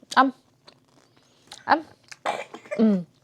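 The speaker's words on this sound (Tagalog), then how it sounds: "Ayan, inuubo." A young child coughs several times in short bursts, close by at home, with brief pauses between the coughs and no talking.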